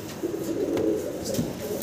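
Fancy pigeons at a market coo in a low, soft, continuous murmur, close by, with faint background voices.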